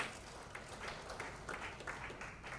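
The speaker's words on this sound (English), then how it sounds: "A hand of applause." Audience applause at a conference session on monitoring illegal flows of electronic waste, a faint, steady wash of many hands clapping at a distance, running evenly from start to finish with no voices on top.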